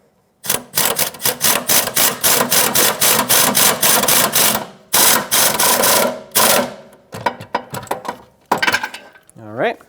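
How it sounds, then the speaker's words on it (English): Impact wrench snugging a sway bar link mounting nut on a 2013-2018 Hyundai Santa Fe, loud rapid hammering bursts of several seconds close by, ending in short blips, with a brief voice at the end. "I'm just going to make this one nice and snug with my impact"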